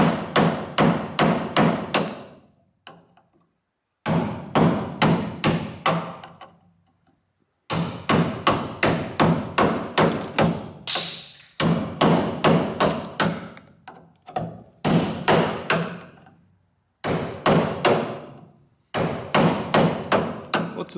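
Steel chisel struck by a hammer, chipping thick body filler off a Holden Torana GTR XU-1 panel, in rapid close sharp blows grouped in bursts of several strikes with short pauses between.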